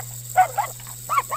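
A giant toy dog in a cartoon story barks in a few short, close, yelping bursts with gaps between them.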